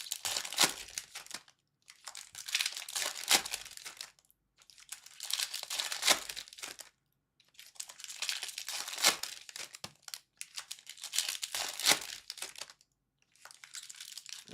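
Foil trading card packs tear open and crinkle during a late-night personal box break, bursts of bright crackling arriving in six or seven separate clusters with short silent pauses between them, close and fairly quiet, with no talking.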